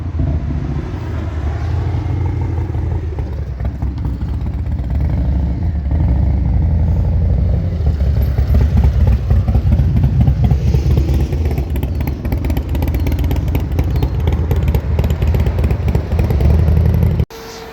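A BMW 135ci fitted with Pro Flow exhaust headers rumbles steadily through a test ride, its engine drone loud and continuous throughout with no talk over it.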